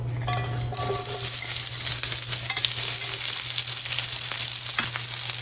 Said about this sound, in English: In my pan, I have a couple tablespoons of oil. I'm going to add the sliced onion.